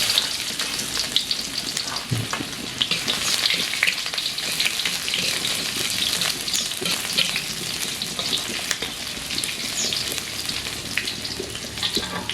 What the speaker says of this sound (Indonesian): Sambil nunggu nasi liwatnya, kita menumis kangkung. Masukkan bawang merah, bawang putih.